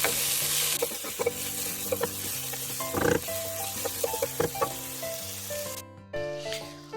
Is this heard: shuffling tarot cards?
no